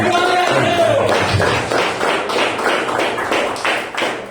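A church congregation claps in a steady rhythm during a worship service, the beats loud and regular, with a voice over the opening moments.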